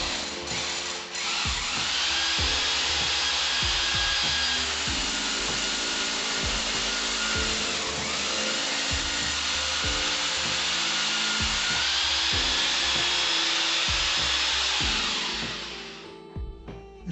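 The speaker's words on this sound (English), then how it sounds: "we've drilled 2 holes through just to see where they come out in this room" Power drill boring holes through a ceiling wall near a doorway during home renovation, a steady high whine with grinding, rubbing tones running continuously for about fifteen seconds before stopping.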